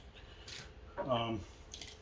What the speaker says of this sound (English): I'm just going to cut this with scissors on the rough end